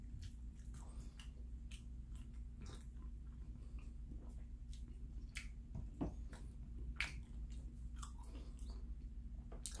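Someone chewing homemade bread close to the microphone, soft repeated moist bites and mastication clicks over a quiet low hum, steady and irregular through the stretch, with no talking.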